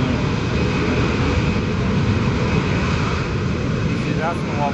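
Boeing C-17 military transport aircraft at the 2009 California Capital Air Show gives a loud, steady engine roar, broad and unbroken throughout, with a faint rising whine near the end.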